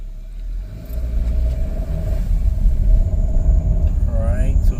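A Hyundai Tucson with a dual-clutch transmission on a short test drive, its engine rumbling steadily and rising slightly near the end, with someone talking over it.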